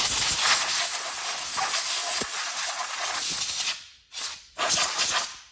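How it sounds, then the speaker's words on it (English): Compressed air blasts shavings off the ABS sensor during a rear wheel bearing job on a 2006-2012 Ford Fusion 2WD, a loud continuous hiss that breaks into two short final bursts. "I use some compressed air."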